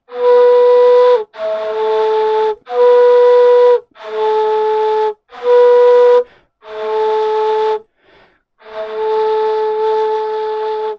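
A breathy ney flute plays long sustained notes, alternating between La and Sol, neighboring pitches, with brief pauses between each held tone.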